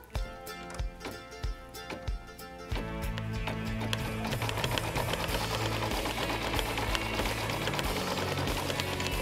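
An embroidery machine stitching a design onto leather: a few sparse mechanical clicks, then a fast, continuous, rhythmic needle chatter and motor hum, close and steady to the end.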